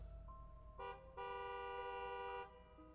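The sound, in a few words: car horn honking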